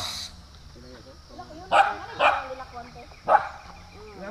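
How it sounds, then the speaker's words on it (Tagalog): Dogs bark in three sharp bursts against a steady background of chatter at an eco farm resort in Agusan del Sur, with people talking throughout. "Lalaki ng mga aso dito."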